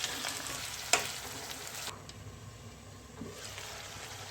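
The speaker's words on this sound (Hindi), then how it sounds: "मिक्स करने के बाद इनकी 3 मिनट में फिर भुनाई करूँगी, ताकि ये जो टमाटर है ये अच्छे से इसमें बिल्कुल मैश हो जाए।" Spices and tomatoes stir-fried in a pan for a potato and chili curry, giving a steady soft sizzle with a brief sharp scrape of the spoon and quieter frying afterward, close and fairly faint.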